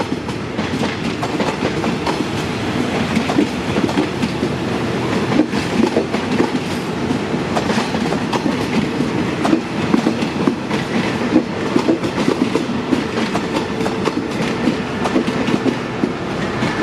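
A passenger train rolls past close by at Bang Sue, Thailand, loud and steady, its wheels clacking rhythmically over the rails with a continuous rumbling roar throughout.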